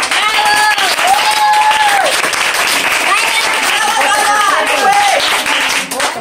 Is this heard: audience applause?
yes